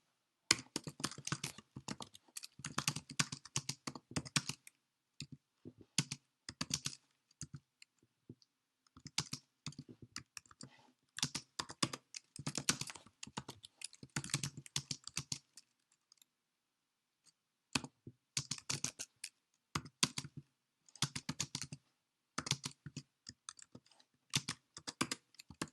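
Code is typed on a computer keyboard in quick irregular bursts of close, crisp key clicks, separated by short pauses, with no voices.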